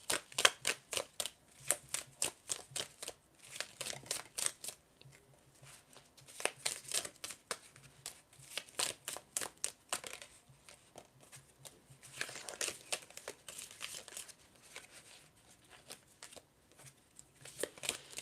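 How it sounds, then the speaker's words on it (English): Tarot cards shuffled by hand during a live reading, repeated bursts of crisp riffling and slapping, close and fairly quiet, with brief pauses between rounds. "I'm just going to shuffle a little bit more to see if anything else comes up"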